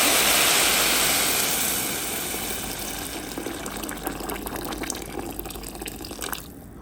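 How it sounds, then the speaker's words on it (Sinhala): Water poured into a pot for Arabic-style vermicelli rice, a steady close rush of liquid that is loudest at the start and settles into a lighter, bubbling flow with small splashes. "දැන් අපි වතුර එකතු කරගනිමු"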